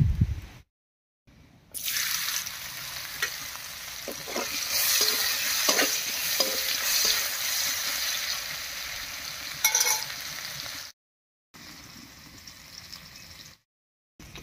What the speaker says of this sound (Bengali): এবারে মাছ ভাজার এই তেলের মধ্যে পেঁয়াজ কুচি দেব